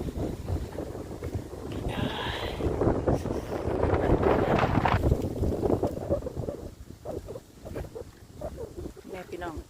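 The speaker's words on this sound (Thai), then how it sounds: "โอ้ยลมแห้งพี่น้องหนาวหนาว" Cold, dry wind gusts steadily against the microphone outdoors, with a broad rushing roar that builds in the middle and eases toward the end; a voice is faintly heard beneath.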